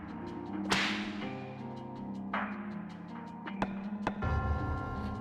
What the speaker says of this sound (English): I love the whip sound.